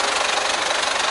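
A diesel Kia Sportage more than fifteen years old runs with a steady, gruff engine drone and a slight knocking texture, loud and close, with no voices.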